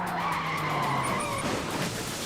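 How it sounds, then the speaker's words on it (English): A new car swerves and skids, its tires squealing in a sustained screech that wavers and fades, loud and close with engine noise underneath. "He starts with his flawless swerve and skid."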